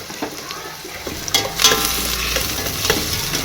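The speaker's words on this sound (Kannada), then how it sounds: "ಉಳ್ಳಾಗಡ್ಡಿ ಹಾಕಿದೆ ಉಳ್ಳಾಗಡ್ಡಿ ಸ್ವಲ್ಪ ಫ್ರೈ ಆಗಿದೆ ಎಣ್ಣೆ ಒಳಗೆ" Onion frying in oil in a pan, a steady close sizzle with intermittent stirring scrapes and clinks, no talk.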